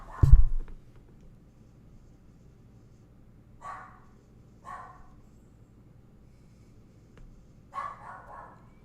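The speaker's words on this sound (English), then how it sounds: "Sorry, my dog is barking in the background." A dog barks a few times in the background indoors, short separate woofs spaced out over several seconds against a low hum, after a loud thump at the start.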